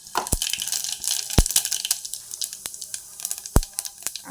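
Cumin seeds hit hot oil in a pan and sizzle with a crackling hiss, punctuated by a few sharp pops and clinks, close and fairly quiet.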